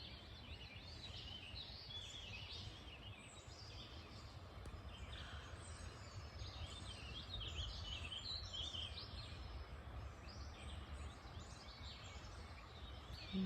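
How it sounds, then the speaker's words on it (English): Faint birdsong chirps and trills come from a distance over a steady, soft background of a flowing creek in a nature center. "So listen to the bird song."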